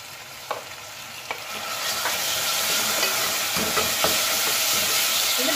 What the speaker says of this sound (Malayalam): എന്നിട്ട് നന്നായിട്ട് ഒന്ന് വഴിക്കണം, എണ്ണ തെളിയുന്ന വരെ ഒന്ന് വഴിക്കണം.